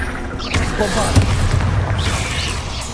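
A Bombarda blasting spell in Hogwarts Legacy sets off a sharp burst about half a second in. A rolling boom follows and sustains for a few seconds, with voices heard faintly around it.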